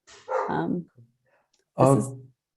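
A pet dog barks indoors at home in two short, loud bursts about a second apart, close to the microphone, with silence between them.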